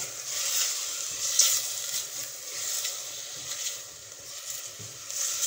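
Onions, garlic and mushrooms frying in a pan, a steady soft sizzle with light crackle and occasional stirring, close and moderately quiet with no talk.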